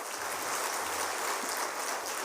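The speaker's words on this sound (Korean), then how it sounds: "다시 한번 뜨거운 박수로 감사하겠습니다" A church congregation at a Wednesday youth Christmas thanksgiving service applauds with steady, sustained clapping, an even wash of hand claps with no pauses.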